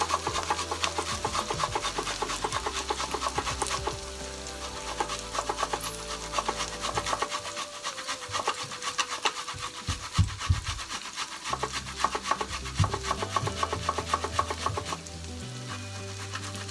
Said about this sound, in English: So I'm going to grate a piece of ginger.